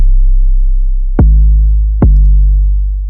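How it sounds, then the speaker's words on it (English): A deep, booming 808 bass plays two punchy hits that sustain and slowly fade, loud and alone with a low rumbling tail. "I went with this low, punchy 808,"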